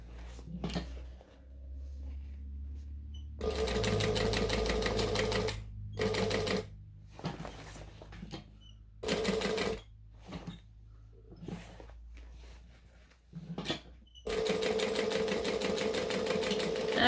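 A sewing machine stitches a bag handle in several bursts, a buzzing whir that starts and stops repeatedly, the longer runs separated by short pauses and small handling clicks.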